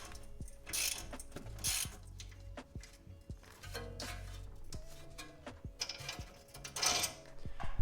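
A wrench works loose a coilover clamp bolt on a BMW F80 M3, giving quiet, close ratcheting clicks and metallic taps in irregular bursts with brief gaps between them.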